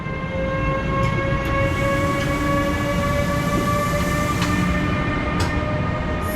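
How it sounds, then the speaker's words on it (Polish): The Tatry passenger train stands at Kraków Główny station shortly before departure, its loud engine and equipment giving a steady, close drone with sustained tonal whines, continuous and without any talking. "za około 2 minuty ruszają Tatry punktualnie"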